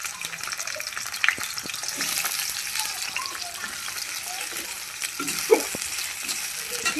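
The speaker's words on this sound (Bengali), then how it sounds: "তেলের মধ্যে পেঁয়াজটা দিয়ে দিয়েছি তো পেঁয়াজটা ভালো করে আমি ফ্রাই করে নিই" Onions sizzle in hot oil in a steady, close frying hiss, with a couple of brief clicks from the pan partway through.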